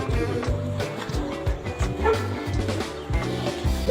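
A dog barks repeatedly in a rapid string of short, loud woofs and yips, recorded fairly close.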